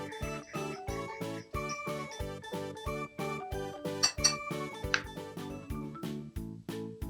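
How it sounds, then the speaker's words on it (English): A spoon stirs a Flaming Homer cocktail in a glass, bright rhythmic clinks and tinkling rings repeating in a steady circular pattern, close and clear with lingering chime overtones. "Give that a stir."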